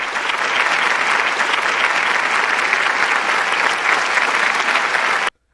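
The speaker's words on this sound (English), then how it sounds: "can I get an applause for that, man?" Sustained applause from a convention audience of journalists, dense and steady for about five seconds before cutting off abruptly.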